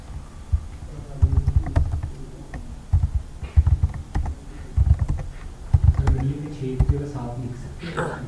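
Someone types code for a Bootstrap web layout on a computer keyboard, with irregular bursts of clicking keystrokes, some quick runs and short pauses, fairly close under a quiet room tone.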